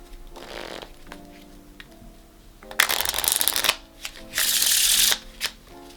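Playing cards being shuffled in several bursts, with a softer riffle early on and two loud, dense riffling bursts later, heard close and alone with no talking.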